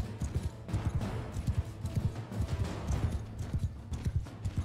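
Horse hooves thud in a quick galloping rhythm during a Mount and Blade Bannerlord battle, steady repeated clip-clop beats at moderate loudness with no talking.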